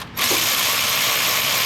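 A Milwaukee handheld ratchet snugs up exhaust header bolts: a steady, loud, continuous mechanical whir right up close that starts after a brief quiet moment and runs unbroken to the end.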